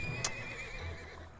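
A horse in the Mount & Blade Warband video game gives a single clear whinny, a wavering high neigh that rises sharply then trails off over about a second, with faint hoof clatter and game noise underneath.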